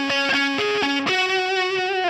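Distorted electric guitar through a Line 6 Firehawk with reverb on a Guns N' Roses style tone, a short melodic lead phrase of sustained bending notes with a reverb tail, loud and alone.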